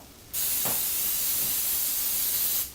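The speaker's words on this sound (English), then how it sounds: "I'm going to add some cooking spray." A loud continuous hiss of cooking spray sprayed into a pan, lasting over two seconds, close up, starting abruptly and cutting off, with no talking.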